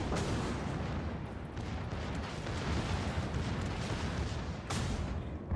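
Warship guns firing in the World of Warships naval combat game, a dense, continuous rumble of heavy booms with a sharper blast near the end, loud and steady, with no talking.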